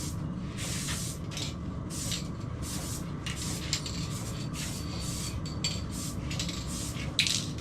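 Gold spray paint hisses from an aerosol can onto abused dirt bike forks in short repeated bursts, close and fairly loud, with brief gaps between passes and a faint clink near the end.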